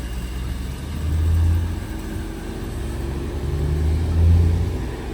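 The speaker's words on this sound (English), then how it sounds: "just moving a Golf 8 quickly" A Volkswagen Golf 8 is driven a short way at a dealership, its engine rumbling low and swelling twice as it moves off, with no talk over it.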